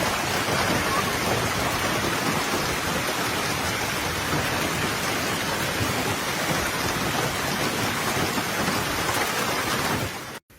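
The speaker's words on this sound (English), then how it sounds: "A violent hailstorm suddenly struck Paris after a period of intense heat" Dense, steady pounding of a violent hailstorm in Paris, a broad continuous roar of impacts that holds loud and unbroken before cutting off abruptly.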